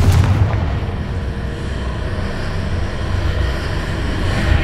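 A Confringo fire-blast spell in Hogwarts Legacy explodes in a dense, continuous roar of booming blasts that fills the whole stretch at steady loudness with no pauses.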